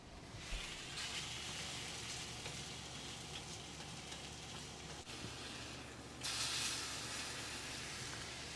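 Egg setting in a hot pan for a homemade steak, egg and cheese bagel, a faint, steady sizzling hiss throughout that swells slightly toward the end, with no talking.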